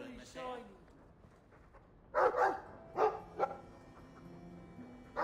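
A dog in the video game Dragon Age 2 gives three sharp, fairly loud barks in quick succession, with quieter game dialogue and a low background hum before them.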